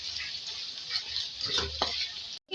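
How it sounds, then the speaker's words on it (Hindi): Steady hiss of ginger garlic paste frying with beef in a pan on low heat, with a few scraping stirs partway through before a brief pause at the end. "अब इसको हम मिक्स करेंगे और 2 मिनट इसको सिम में फ्राई करेंगे"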